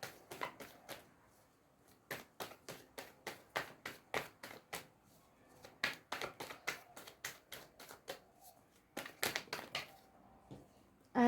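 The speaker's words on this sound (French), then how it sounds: "je tire une carte supplémentaire" Tarot cards are shuffled and flicked through by hand, a close, faint run of rapid papery taps in bursts, with no voices.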